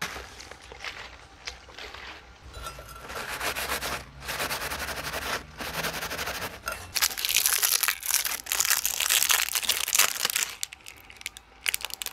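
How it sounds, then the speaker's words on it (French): Epoxy repair paste for a cracked oil pan being kneaded by hand, giving close, continuous crinkling, rubbing and squishing textures that swell and fade unevenly, with no talk. "Là, il faut bien malaxer la pâte."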